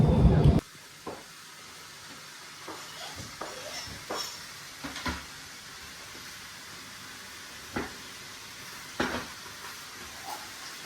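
Soft sizzling and stirring from a pan, with scattered clinks and scrapes of utensils; a brief loud burst of noise opens the clip before it settles.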